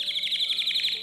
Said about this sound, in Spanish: Porque dices un pollo y sale un canario.